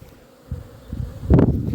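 Buckfast honeybees buzz around their hive during an orientation flight, a faint droning hum that swells louder as insects pass close near the end.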